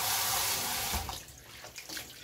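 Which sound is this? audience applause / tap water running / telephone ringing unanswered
tap water running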